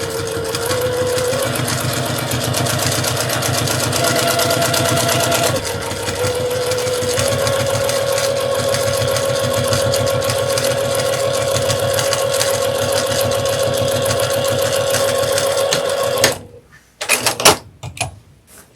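A sewing machine stitching fabric pieces together runs in a steady, close mechanical whir for about sixteen seconds, its pitch shifting slightly as the speed changes, then stops, followed by a few brief clicks and handling noises.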